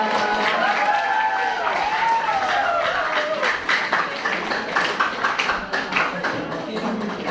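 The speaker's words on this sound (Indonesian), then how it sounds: "Ya, tepuk tangan semuanya." Students at a school orientation event clap together, a dense burst of applause with voices and a rising shout or cheer mixed in over the first few seconds.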